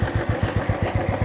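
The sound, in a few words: car engine running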